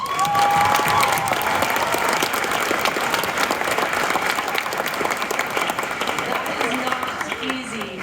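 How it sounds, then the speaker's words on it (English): A large crowd at a business launch expo gives a sustained round of applause, dense clapping with some cheering that holds steady and tapers slightly toward the end. "I think we just need to give them one more round of applause."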